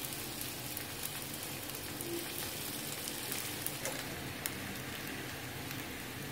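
Boiled potatoes sizzle in very hot oil for a potato bhaji (ukad batata), giving a steady, close crackling hiss with scattered pops throughout.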